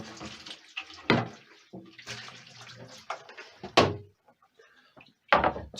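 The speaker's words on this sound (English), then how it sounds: "I'm going to give this a quick rinse over here" Tap water splashes in short, uneven bursts as a homemade cider airlock is rinsed at a sink, close and fairly quiet, with brief pauses and small knocks between the gushes.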